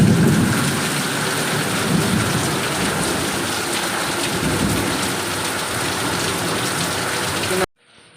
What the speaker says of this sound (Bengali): দারুণ বৃষ্টি শুরু হলো